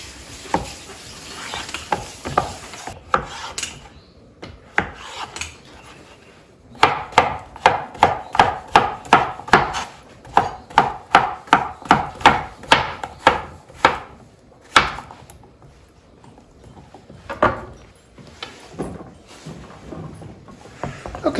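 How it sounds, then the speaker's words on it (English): A knife chopping vegetables such as zucchini on a board, heard as a steady run of close, rhythmic knocks in the middle with sparser cuts and faint kitchen sizzle before and after. "I'm going to take a break from chopping up vegetables"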